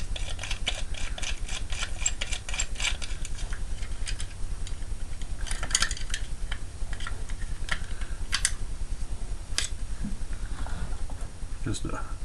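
Socket wrench ratcheting a nut off an electronic mini fridge being scrapped, a fast continuous run of small clicks close by, steady throughout with occasional louder knocks.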